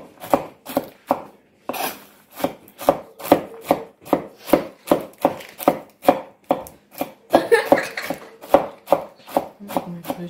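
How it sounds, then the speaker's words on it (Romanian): Walnuts being coarsely chopped with a knife on a board, a steady series of sharp, close knocks repeating at a brisk, slightly uneven rhythm, with a brief pause early on and a busier flurry near the end. "Acum tocăm. Tocăm așa grosier, nu că? Nu mărunt, nu foarte mărunt."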